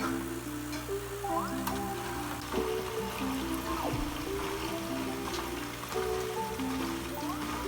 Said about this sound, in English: the second you plug it in, the filter will turn on.